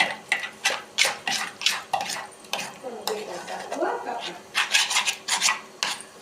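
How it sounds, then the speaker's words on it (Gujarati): A spoon stirs dhokla batter, grated bottle gourd and onion mixed in, after soda is added. The scrapes and rubs come in quick, rhythmic strokes against the bowl, fairly close, with a faint voice partway through. "સોડા નાખીને પછી હલાવશું."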